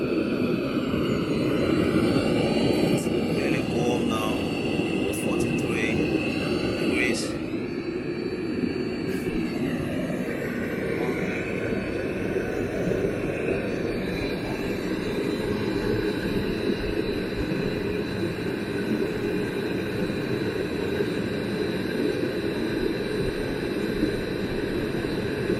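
A Webasto diesel fuel burner heater fitted to a car runs with a steady, broadband roaring hum that holds at an even level throughout, with no talk over it.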